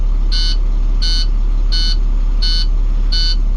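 A school bus warning buzzer sounds while the air system fills, giving five evenly spaced electronic beeps about two-thirds of a second apart over a constant low hum, loud and close with no one speaking.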